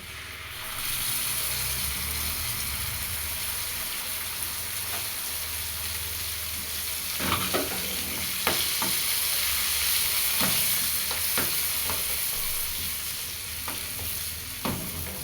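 Fava beans are added to a frying pan and stirred, giving a steady close sizzle throughout with repeated scraping strokes of the spoon against the pan.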